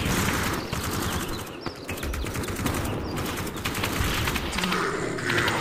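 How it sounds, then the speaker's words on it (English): In the VR shooter Aim XR, gunfire runs as a dense, continuous clatter of rapid shots for several seconds, loud and unbroken, with faint voices underneath. "I missed all my shots."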